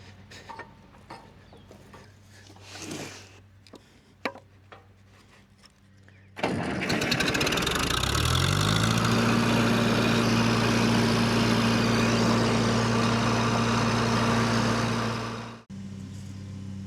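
A tractor starts up or approaches nearby and drives past, its heavy engine rising to a loud, steady drone with a low droning hum, after quieter ambient noise with scattered knocks.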